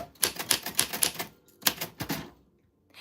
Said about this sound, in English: From a typewriter from the 40s that still works because she's a grand old gal.